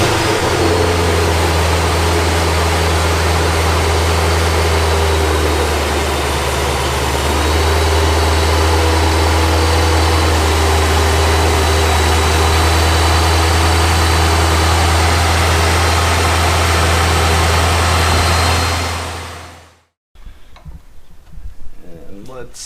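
A Procharged Pontiac GTO fitted with a new radiator idles with a deep, steady low rumble and a whining supercharger tone for nearly twenty seconds, then cuts out abruptly, leaving faint background noise.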